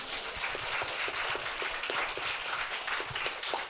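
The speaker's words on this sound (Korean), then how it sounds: "박수." Audience applause at a youth talk concert with an industrial designer, a steady, moderately distant patter of many hands clapping without pause.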